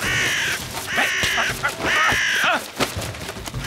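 Several loud, harsh crow caws from the French animated cartoon Yakari repeat in quick succession, close by, over a busy background.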